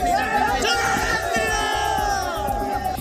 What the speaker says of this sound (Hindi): शास्त्री जब प्लेन में सवार हो रहे थे उस दौरान भी उनको भीड़ ने घेर लिया।